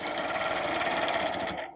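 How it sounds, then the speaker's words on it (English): A sewing machine stitches an arc in a steady, fast, close-up run of needle strokes that stops abruptly at the end. "we're going to stitch an arc"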